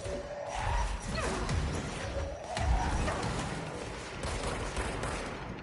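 Firefight in the video game Control: continuous loud rattling gunfire and heavy blasts from grenades, with dense crackling bursts and low thumps throughout and no talking.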